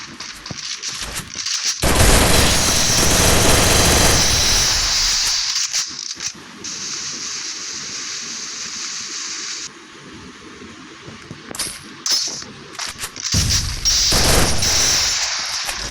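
A shooting video game plays loud sustained bursts of gunfire with a long hissing spray, then quieter rattling shots, before another heavy burst near the end, with no talk.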